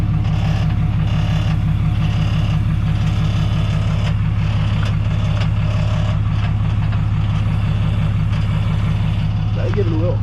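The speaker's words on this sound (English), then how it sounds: "My exhaust pipe be rattling sometimes." A Dodge truck sits idling with its loose exhaust pipe knocking against the frame or a mount. The engine drones loud and steady throughout, with a fast, continuous metallic rattle riding on top.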